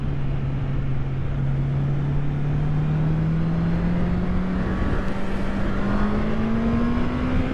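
A four-cylinder Honda CB650R motorcycle accelerating hard in third gear toward high revs, a steady rising engine whine under heavy wind rush, continuous and close, with no talk.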